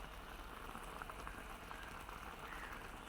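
Bitter gourd curry boils in a pot, a soft continuous bubbling and hiss heard close but faint, steady throughout.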